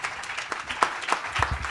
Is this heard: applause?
yes